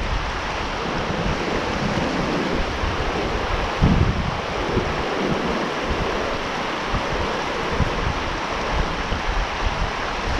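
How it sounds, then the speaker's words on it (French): Strong wind buffets a fisherman out trout fishing, a constant roaring rush of gusts across the microphone with a brief louder thump midway, no voices heard. "J'ai un vent qui est contre moi"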